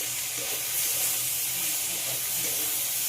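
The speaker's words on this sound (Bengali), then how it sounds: "মুসুর ডালটা দিয়ে আবারও 5 মিনিট মতো ভেজে নিতে হবে।" Masoor dal frying with potatoes in a pan over low heat, a dense, continuous hissing sizzle that stays even and close for the whole stretch with no talking.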